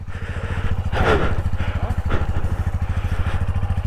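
A motorcycle engine idles close by on a snowy slope with a rapid steady putter, while a couple of brief scraping bursts and faint voices pass over it.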